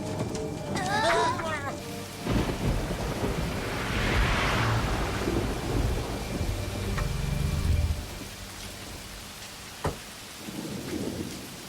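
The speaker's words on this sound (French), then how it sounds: "Ah, bah voilà qu'il pleut maintenant." Steady rain pours down with rumbling thunder, loud and close, while people talk briefly over the downpour.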